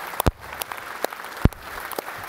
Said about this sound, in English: So ladies and gentlemen, give him a round of applause.